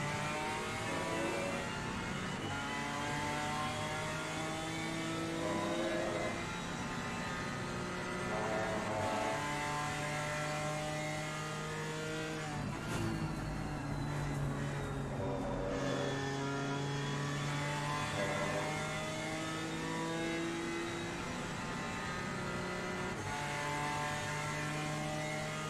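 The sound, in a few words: GT4 race cars engines in Assetto Corsa Competizione video game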